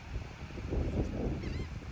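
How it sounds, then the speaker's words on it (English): Laughing gulls calling on the Delaware Bay, a few honking, nasal cries rising in the middle of the clip over a soft wind-like background, moderately near. "you hear a lot of the laughing gulls in the background"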